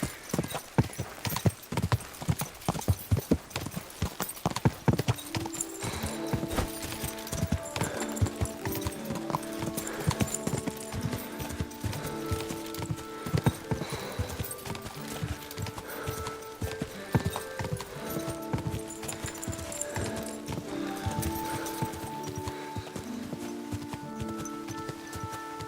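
Horse hooves clip-clop in a steady, brisk rhythm on a hard surface, close by, continuing throughout with a faint tonal sound in the background.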